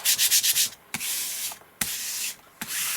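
A brayer rolls paint across a Gelli plate, making a sticky, tacky rasp in repeated strokes: quick choppy pulls at first, then longer sweeps broken by short pauses, close and alone.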